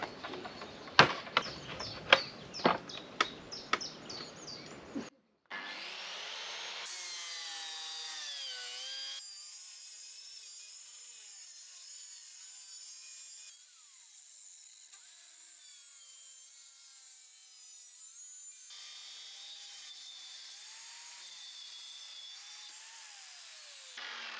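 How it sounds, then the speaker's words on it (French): A few sharp knocks, then a circular saw starts and whines steadily for a long stretch, its pitch shifting slightly as it cuts through wood. "Petit coup de scie circulaire."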